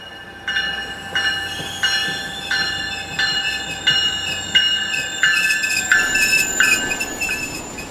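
A train rolls steadily along the rails, with a regular rhythmic clatter of wheels over track joints and a faint high metallic whine, heard from inside the carriage.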